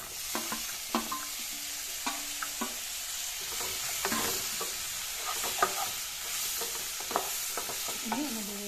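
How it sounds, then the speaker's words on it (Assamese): Fish frying in hot oil in a pan for a fish curry with hyacinth beans gives a steady soft sizzle, with a few sharp clinks and scrapes of a utensil stirring, close by and with no voices. "এইখিনি অলপ ভাজিলো তাৰ পিছত উৰহিখিনিও ইয়াতে দি দিলো"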